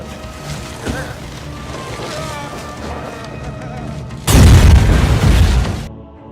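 Bomb blasts in a mafia revenge action film go off one after another, a rumbling build of music and effects giving way to a loud, deep booming explosion with a long rolling tail that cuts off abruptly.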